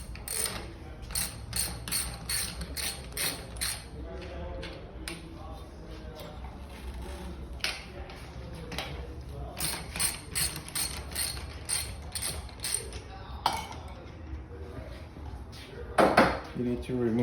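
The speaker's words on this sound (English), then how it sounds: "You need to remove the nuts from the axle and remove these washers." A ratchet loosening the axle nuts on an e-bike front wheel, close repeated bursts of rapid clicking with metallic clinks of nuts and washers in between, a voice talking intermittently.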